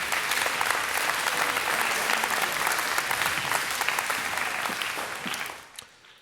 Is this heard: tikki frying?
no